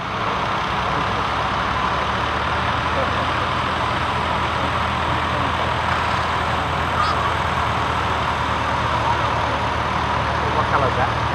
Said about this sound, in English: Got a Chamberlain Champion 9G, little diesel powered tractor there, once again built in Australia.